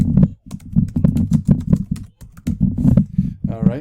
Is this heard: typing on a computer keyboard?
yes